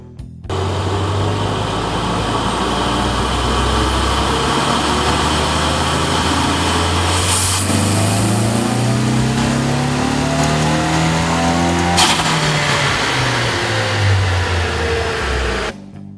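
EcoBoost Mustang fitted with a Kooks turbo-back exhaust, Livernois tune and Airaid intake, revving hard on a dyno, loud and close, engine note climbing through sweeping pulls for about fifteen seconds with no talk.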